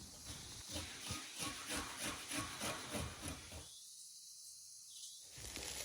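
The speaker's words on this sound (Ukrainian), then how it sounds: "Та обов'язково чесничок. Натираю на мілку тертку." Garlic is rubbed on a fine grater in quick, regular rasping strokes, close and fairly soft, pausing briefly near the end before the scraping resumes.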